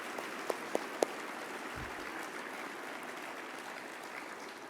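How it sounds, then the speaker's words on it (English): Banquet audience applauding, a steady wash of many hands clapping together that holds evenly throughout, with a few sharper claps near the start. "Can we give a round of applause for that?"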